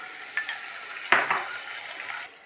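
A paste of ground ginger and green chilli fries in a pan. A low sizzle runs under two sharper scraping stirs, close and fairly quiet, with no speech.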